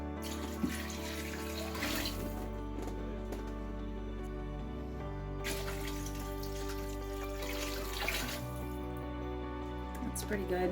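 Tap water runs continuously into a pot holding a big pile of bones for homemade bone broth, a steady close splashing stream that lasts throughout, with a low tonal hum beneath it.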